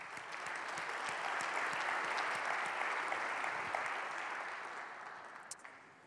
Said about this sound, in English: I just want to give a big round of applause to all the customers that have believed in us